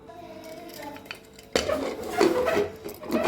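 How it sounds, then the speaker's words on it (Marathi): The metal lid of a pressure cooker is set onto the pot during home cooking of chicken biryani. A soft clink comes first, then a sharp, loud clatter and scraping as the lid is fitted and locked, with no voices. "कुकरचं झाकण आपण लावून घेऊया."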